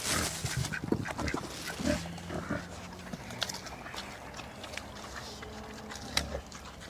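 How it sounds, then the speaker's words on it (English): Hungry pigs eat potatoes, onion and cabbage scraps on a homestead, with close grunts, snorts and wet chewing in irregular bursts that settle into quieter munching. "The pigs go crazy over it."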